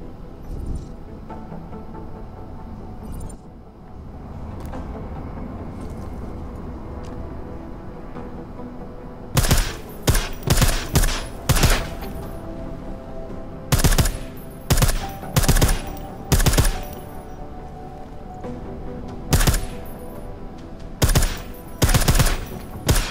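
Silenced pistol shots ring out at a shooting range in Deus Ex: Mankind Divided: after a quiet stretch of low ambience, loud, crisp shots arrive in quick clusters and repeated bursts that continue to the end.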